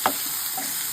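Onions drop into melted sugar in a pan for a chicken burger topping, a quick soft splash followed by a steady close sizzling hiss.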